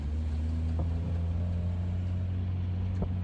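A Mazda Miata engine idles steadily nearby with a repaired, quieter exhaust, a low, even rumble with a couple of faint clicks, no talking.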